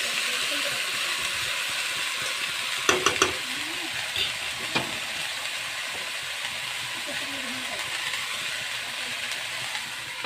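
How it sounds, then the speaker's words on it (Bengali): Dheki shak fern greens sizzle steadily in a hot pan as they are stirred, a continuous close frying hiss with a few brief utensil clinks. "শাকগুলো দিয়ে অল্প নেড়ে চেড়ে ঢেকে দেব।"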